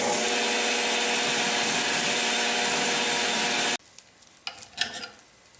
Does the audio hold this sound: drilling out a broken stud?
yes